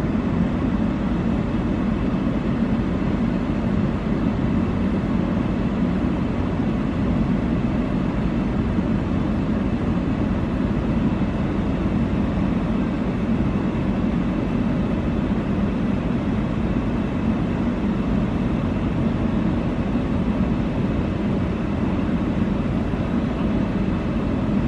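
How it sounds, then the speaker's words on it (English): Steady, loud roar of an airplane passing over a wildfire, a continuous broadband rumble that holds level throughout with no talk. "So I wonder if that was the same plane right there that I saw coming by a minute ago."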